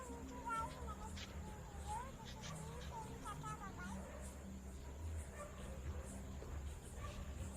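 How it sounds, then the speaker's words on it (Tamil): Several dogs bark and yip at night in a village, the barks coming in scattered bursts at a moderate distance beneath people talking. "எல்லா நாயும் கொலைக்குதுடா."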